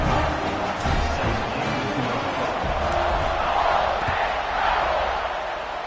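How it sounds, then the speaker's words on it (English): A football stadium crowd buzzes in a continuous, dense roar after a score, with shouts and cheers swelling within the wash and no pauses. "this crowd is buzzing after that last score"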